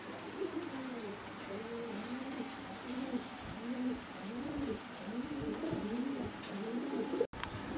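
Pigeons in a loft of racer and Pakistani high-flyer birds coo in a steady, overlapping chorus, close and continuous, with faint chirps above and no talk.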